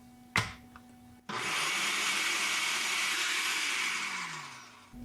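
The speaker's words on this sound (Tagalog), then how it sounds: "Tapos may blender lang uli natin." An electric blender whirs loudly and steadily as it blends seasoning with salt and a little white sugar for fries, starting after a brief clatter and running for several seconds before slowing.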